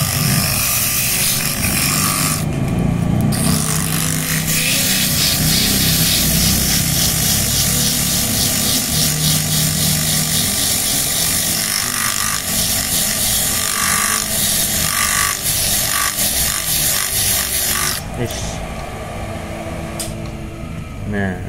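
Continuous scraping and rubbing of sandpaper on a water pump shaft, steady and close, with a whirring machine-like drone underneath throughout.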